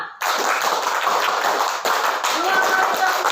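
A classroom group claps together in a quick counted rhythm, sharp hand claps in bursts filling the room, with children's voices mixed in.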